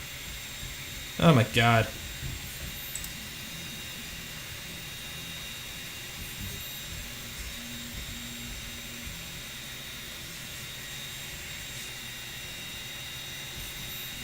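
A 3D printer part cooling fan running at full speed for PLA gives a steady faint whirring hiss throughout, with a brief spoken exclamation near the start.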